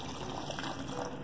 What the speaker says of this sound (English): Added hot water.